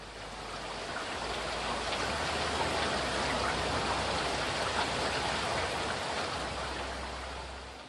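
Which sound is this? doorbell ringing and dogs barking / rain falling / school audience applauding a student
rain falling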